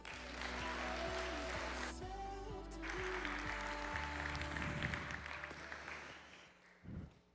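An audience claps to welcome a speaker at a talk, a dense and sustained round of applause that slowly fades out over several seconds, with a brief bump of sound at the end.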